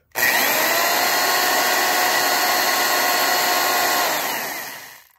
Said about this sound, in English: This is 1974 Black and Decker drill.